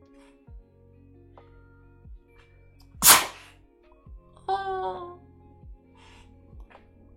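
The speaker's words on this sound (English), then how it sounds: "and I'm gonna sneeze" A single sharp, loud sneeze bursts out in a quiet room, followed by a brief vocal sound, with faint background hum.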